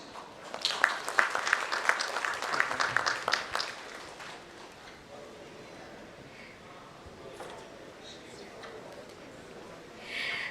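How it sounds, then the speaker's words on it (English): Scattered applause rises briefly as a speaker is welcomed on stage at a CIO conclave and awards event, moderately loud for a few seconds then fading into quiet room tone with faint murmurs. "With a huge round of applause, ladies and gentlemen, please welcome Mr. Kersi Tavadia on the stage."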